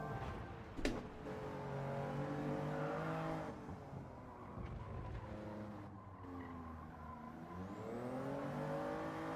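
A Nissan race car drives a time-trial lap in the video game Gran Turismo 7. Its engine note climbs and falls steadily through gear changes, with brief tire squeal, close and continuous without talk.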